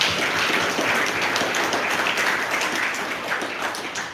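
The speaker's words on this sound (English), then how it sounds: "give a big round of applause to yourselves" An audience at a Bhagavad Gita gathering in a New Jersey temple applauds, loud, sustained clapping from many people that holds steady before tapering slightly at the end.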